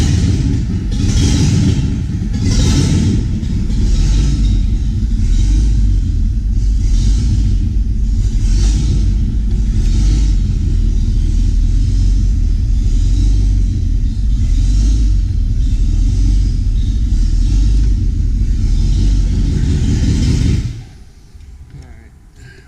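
An ATK replacement engine in a truck runs with a loud, steady rumble and a throbbing idle for about twenty seconds, then shuts off abruptly, leaving near silence.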